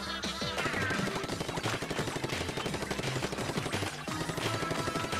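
Continuous rapid-fire shooting in the Splatoon video game, busy and dense with overlapping gunfire-like pops and game sound effects layered over a steady background mix, with no talk.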